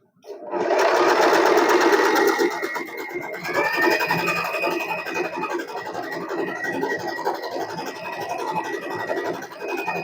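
An Usha Allure DLX domestic sewing machine runs in a continuous whirring, rapidly ticking burst of stitching, loud and close, starting abruptly after a brief silence and changing pitch slightly partway through.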